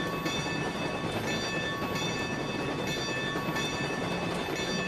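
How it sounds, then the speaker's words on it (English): Heavy storm weather in the train game Railroads Online: a continuous wash of rain with low rumbling, steady and loud throughout, alongside faint steady tones. "Now the weather seems to be getting nasty. A very huge storm front is coming in."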